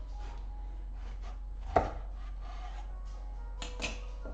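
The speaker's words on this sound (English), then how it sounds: "Now I'm just gonna cut the sides down real quick, and then I'm gonna cut this straight down the middle." A knife cuts through a cantaloupe in a series of soft, scraping slices with one sharper thud partway through, close and clear over a constant low hum.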